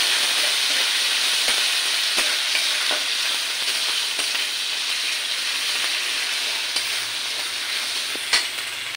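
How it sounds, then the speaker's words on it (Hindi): Ginger garlic paste and green chili fry in hot oil, a steady bright sizzle with occasional light taps of a spoon against the pan, close and continuous without any talking. "मैं उसमें डालूँगी ये अदरक लहसुन का पेस्ट और ये हरी मिर्च। और पहले मैं इसे फ्राई करूंगी।"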